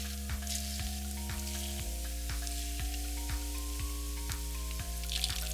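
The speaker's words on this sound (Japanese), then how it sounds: "180度でカリッと揚げ焼きにしました" Somen noodles shallow-fry until crisp in oil at 180 degrees, a steady close sizzle running throughout with faint regular ticks and a sustained tonal hum behind it.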